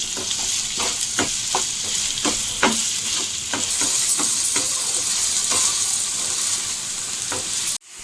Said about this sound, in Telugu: ఈ రొయ్యలను అయితే ఒక ఫైవ్ మినిట్స్ ఫ్రై చేసుకుందాం